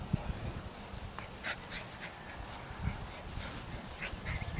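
Dog whimpering faintly during weave pole agility training, short soft whines scattered over a noisy outdoor background, with no talking.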